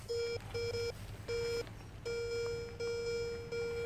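A metal detector sweeping over a meadow gives a loud, steady electronic beep in repeated bursts of uneven length, separated by short gaps.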